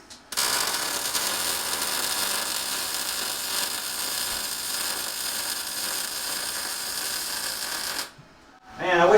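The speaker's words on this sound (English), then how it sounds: "this is 1/8 inch with the titanium welder" MIG welding of 1/8 inch material with a Titanium Vulcan welder produces a steady, loud buzzing crackle that runs continuously for about eight seconds, then cuts off abruptly, followed by a brief rising noise.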